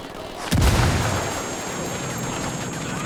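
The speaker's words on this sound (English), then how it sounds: "Grenade! Grenade! Grenade! Watch out!" A grenade explodes in Ghost Recon Wildlands, a sharp booming blast at close range followed by a long rumbling decay under steady background noise.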